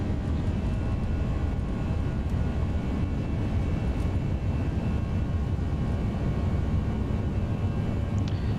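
Airbus A320 jet engines spooled to takeoff power in the X-Plane 11 flight simulator, a steady loud broadband roar that holds constant throughout without breaks.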